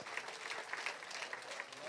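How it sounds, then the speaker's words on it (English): A crowd applauds with brisk, steady clapping for about two seconds at a fishing tournament weigh-in, a voice faintly mixed underneath. "Big round of applause."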